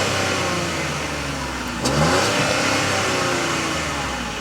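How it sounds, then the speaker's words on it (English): A 2024 Buick Envista ST with its 1.2-liter turbo engine revs at the exhaust pipe: a steady, close engine drone that swells sharply midway into a brief rev, then holds a raised note. "and sounds like this from the exhaust pipe"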